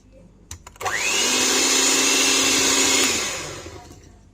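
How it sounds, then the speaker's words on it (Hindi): An electric beater whirs as it mixes flour into cake batter, starting after a few clicks, running steadily loud for about two seconds, then winding down, close with no talking. "फिर एक दफ़ा इसको ना बीट करो, क्योंकि आवाज़ बहुत आ रही है"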